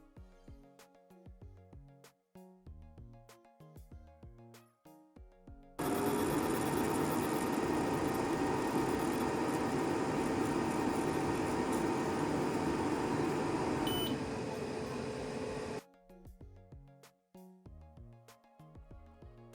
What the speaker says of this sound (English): let's do an engraving in a spot that's literally impossible to do with a standard gantry laser like the S1 or P2, the bottom of the cup